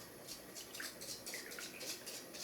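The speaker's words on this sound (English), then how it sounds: "I'm pouring another shot." A shot of liquor is poured into a small glass, a faint, steady liquid trickle with light splashes under a soft background hiss.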